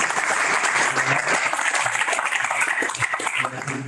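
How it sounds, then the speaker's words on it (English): Audience applause at a deep learning meetup talk, a dense steady clapping from a room of listeners that holds for the whole stretch, loud and close, with no voices over it. "Let's give Georg another applause"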